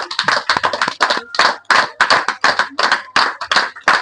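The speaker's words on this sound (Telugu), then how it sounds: "ఎన్నిసార్లు చప్పట్లు కొట్టినా ఈయనకి చాలా తక్కువ" Students at a tuition class meditation session clap together in a quick, rhythmic series of about a dozen sharp, loud, close bursts separated by short pauses.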